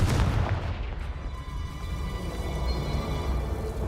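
A Confringo fire-blast spell explodes in Hogwarts Legacy, a loud booming burst at the start that rolls into a sustained rumbling decay with crackling high end, no voices present.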